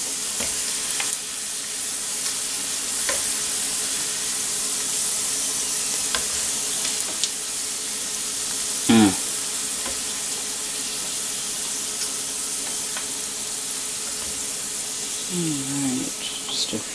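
Beets fry in hot oil with a constant bright sizzle while a spider scoops them out, adding a few scraping clinks and short splashes. A person speaks briefly over the frying.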